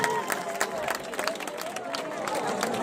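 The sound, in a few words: audience applause for Gianni Pirozzo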